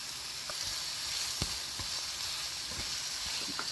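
Chili peppers frying and being stirred in a pan, a continuous bright sizzle with occasional scraping clicks from stirring, close and steady with no voices.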